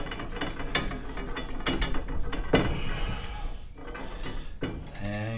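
A screw is tightened with a small Allen wrench during shed storage shelf installation, making a close series of quick ratcheting clicks and metallic scrapes, with a voice starting at the very end.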